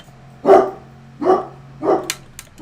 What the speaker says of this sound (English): Apologies for the dog barking that you can probably hear in the background.